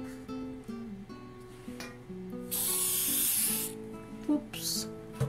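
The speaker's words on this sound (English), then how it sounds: "Actually, let me try this spray." Spray glue hisses from an aerosol can onto fabric for a stylized peacock craft, one long loud spray burst followed by a short second one, with quiet background music throughout.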